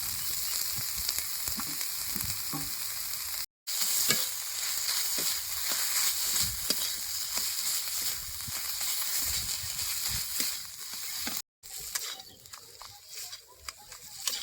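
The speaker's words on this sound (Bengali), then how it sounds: "নারকেলটা দিয়ে মশলাপাতির সাথে ভালো করে কষাই নিছি কি সুন্দর ভাজা ভাজা হয়েছে" Grated coconut frying with a ground spice paste in a hot pan, giving a steady close sizzle with scraping stirs and light crackle, broken by two brief cuts.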